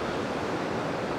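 Rough sea at Ingleses beach in Florianópolis, a steady broadband roar of surf heard from a distance with no voices.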